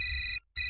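A mobile phone rings with a wife's incoming call, a bright electronic tone pulsing rapidly, stopping briefly, then starting again, loud and close, with no talking.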